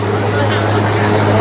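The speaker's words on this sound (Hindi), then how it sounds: "देर तक हेलीकॉप्टर नदी के ऊपर उड़ता रहा।" An Air Force helicopter hovering over a flooded river, a loud, steady engine and rotor roar filling the short stretch without letup, heard up close.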